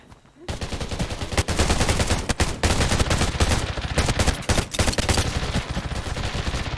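Rapid automatic gunfire rings out in the post-apocalyptic shooter Undawn while a player storms a large house full of enemies. Dense, loud bursts repeat almost without pause, with scattered single shots and brief quieter gaps.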